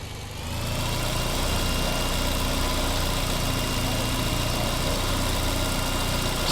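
Sports car engine in the Manifest video game, a loud, steady, unbroken drone that starts abruptly and holds constant with no talk over it.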